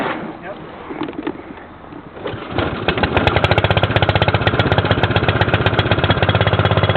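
A four-stroke outboard boat motor starts up during a lake test and settles into a loud, steady, rapidly pulsing run, with engine noise dominating after a quieter opening.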